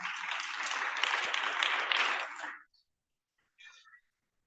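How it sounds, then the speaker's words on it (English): An audience at a medical students' assembly opening ceremony applauds a poet, dense clapping lasting about two and a half seconds before stopping abruptly, then a brief faint sound after the silence. "Please a round of applause for her."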